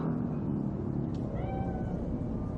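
A cat meows a few times in the Cyberpunk 2077 game on PS4, the thin rising cries sitting over a steady low ambient hum.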